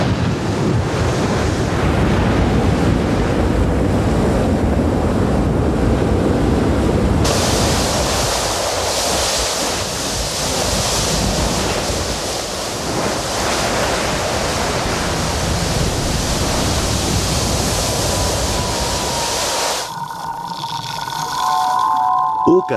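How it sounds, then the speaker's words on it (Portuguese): Molten lava pours into the sea along a volcanic coast, and the seawater boils with a continuous loud roaring hiss and surf-like rush. Near the end it shifts to a thinner, crackling texture. "a costa se torna um caldeirão fervente quando o fogo e a água se encontram"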